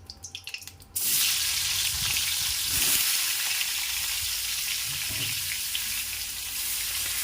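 Pointed gourd (potol) slices sizzling in hot oil in a pan, a loud steady frying hiss that bursts in suddenly after a second of quieter clatter and holds strong throughout, with no talking.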